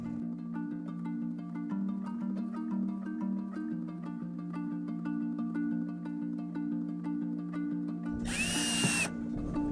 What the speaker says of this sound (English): So I'm just going to put a couple small holes in just to get a feeler on where the bulkhead is